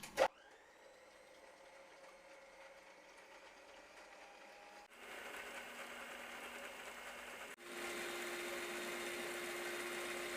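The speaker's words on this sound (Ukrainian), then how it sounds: "І збиваємо спочатку на повільних оборотах, потім швидкість збільшуємо і збиваємо до піни." An electric mixer whips egg whites with a pinch of salt for a meringue roll, starting at low speed, then stepping up twice to a louder, higher whir as the whites turn to foam, steady and close.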